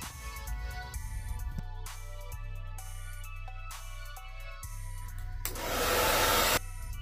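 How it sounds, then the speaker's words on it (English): A blow dryer runs steadily, drying wet paint on custom shoes, with a close, continuous whooshing hum that rises into a louder, harsher blast near the end. "Then continue drying that wet with that blow dryer."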